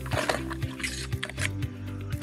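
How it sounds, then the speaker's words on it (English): Liquid solution poured through the wide mouth of a PetraTools HD100/HD200 handpump sprayer tank, with irregular splashing and gurgling pulses, close and moderately loud, and a faint voice in the background. "Pour the solution you're using down through the wide mouth"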